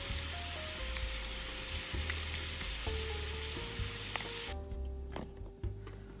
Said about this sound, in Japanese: この焦げた感じとかもいい味付けにしながらもう一回焼いていきます